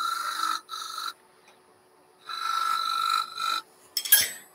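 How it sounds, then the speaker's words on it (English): A skew chisel held flat like a scraper against turned wood on a lathe gives a steady rasping scrape in several passes, two short strokes, a pause, then a longer stroke and a brief sharper scrape at the end. "So skew chisel, I can use flat like a scraper,"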